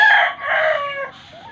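A gamecock rooster crows loudly and close, one long drawn-out call with a rising start and a fading, wavering tail.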